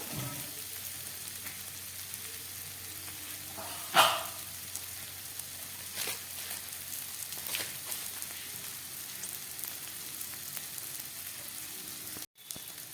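Chicken curry with potatoes and spices sautéing on a low gas flame, a faint, steady sizzle with a few brief knocks and stirring clatters, one sharp click near the end.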